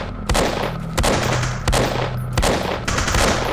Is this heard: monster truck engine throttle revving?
no